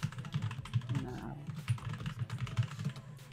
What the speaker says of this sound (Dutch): Hoor je typen?